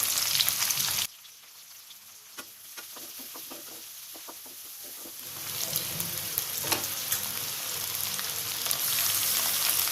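Green chilies, curry leaves and ginger fry in a hot pan for rava kichadi: a loud sizzle cuts out sharply at first, then a quieter crackle builds back to a steady, strong hiss, with no voices.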